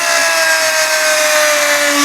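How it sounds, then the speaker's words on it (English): A Dremel rotary tool grinds old paint off a car air cleaner rim, producing a loud, steady high-pitched whine with abrasive scratching that continues without pause throughout. "The Dremel's working really well. It's getting a lot of this stuff off."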